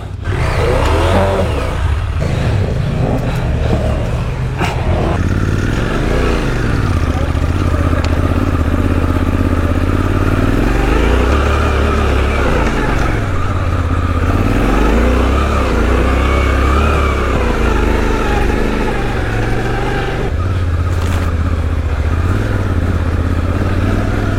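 A new Suzuki V-Strom 800DE adventure motorcycle riding off-road on a hard trail, its engine loud and close, revving up and down continuously with clattering over rough ground.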